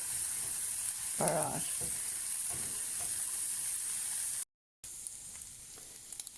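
Sliced mushrooms cooking down in a pan with red wine, salt and pepper, giving a steady soft sizzle and hiss with a brief stirring scrape partway through and a short dropout near the end.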